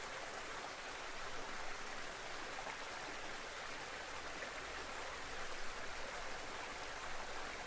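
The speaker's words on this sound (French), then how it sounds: "Juste le bruit de la rivière." A river flows steadily, a continuous broadband rush of running water that stays even and moderately faint throughout, with no voices.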